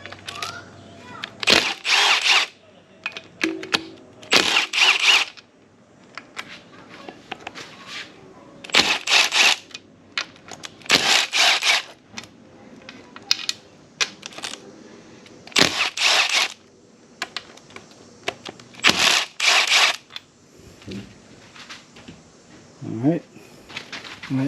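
Half-inch bolts come off a TH400 transmission pump in bursts of loud, near mechanical whirring or ratcheting, about seven in the series, with quieter gaps between them.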